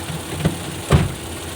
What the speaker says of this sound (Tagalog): hindi na nanginginig ang makina